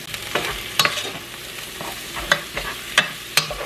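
Onion, minced garlic and half a stick of butter cook together in a pot, giving a soft, continuous sizzle. Several sharp clinks of a spoon stirring against the pot break through at uneven intervals.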